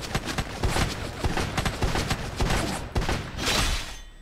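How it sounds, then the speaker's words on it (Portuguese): Gunfire in the shooter game Free Fire crackles in rapid bursts of sharp shots, some close and punchy, others scattered, over about four seconds with no speech. "tô levando tiro da onde?"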